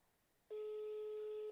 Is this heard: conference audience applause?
no